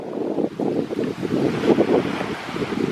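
Strong sea wind gusts at Nongsa, Batam, buffeting the microphone in a loud, rumbling roar that surges and eases continuously.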